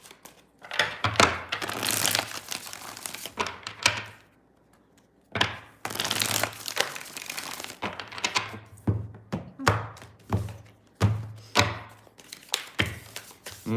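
Stiff tarot cards being shuffled by hand in several bursts, with crisp riffling, flicking and soft thumps of the deck, separated by short pauses and close to the listener.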